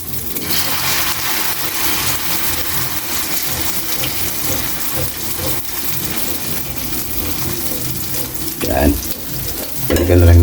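Food dropped into hot cooking oil for a turtang dolung dish fries with a loud continuous sizzle and bubbling. The sound swells sharply near the end as more goes into the pan, and nobody speaks.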